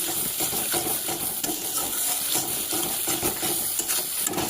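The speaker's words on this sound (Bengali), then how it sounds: "এবার মশলাটা দিয়ে দিয়েছি, ভালো করে কষিয়ে নেব।" Onion and spice masala sautéing in a pan, a steady close sizzle with scraping stirs and small clatters throughout, fairly loud and continuous with no talk.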